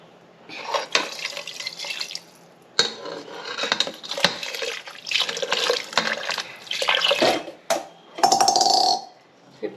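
Masala water is poured into a pressure cooker of mutton biryani, with splashing and trickling bursts interrupted by metallic clinks and clatters of pots and utensils, close and intermittent with short quiet gaps.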